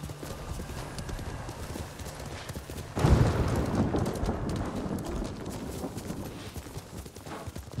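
Horse hooves clip-clop in a steady galloping rhythm in the video game Ghost of Tsushima, continuous and moderately loud, with a surge of rushing noise midway and someone speaking briefly over it.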